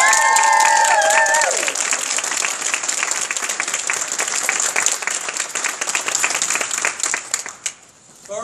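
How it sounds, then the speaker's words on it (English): A crowd claps loudly at a bell ringing celebration, with dense applause lasting about seven seconds before fading out, a few tonal sounds at the start. "Let's give her a round of applause."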